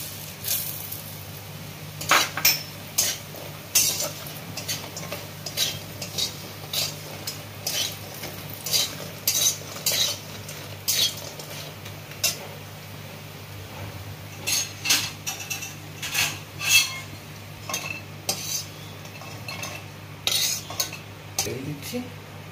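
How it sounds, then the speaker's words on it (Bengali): Bori lentil dumplings fry in oil in a pan, with a faint steady sizzle and repeated sharp clinks and scrapes of a utensil stirring against the metal. "এবার আমি বড়িগুলোকে ভেজে নেব।"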